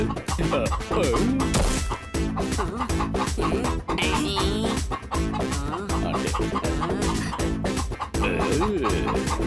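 A cartoon chicken clucks and squawks in a busy animated scene from Kicko & Super Speedo, its calls mixed with crashes, thwacks and lively background music while characters talk.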